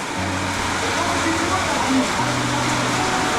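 Heavy rain pours down in a forest with a steady, dense hiss that stays even throughout, while a low murmur of voices sits faintly beneath the downpour.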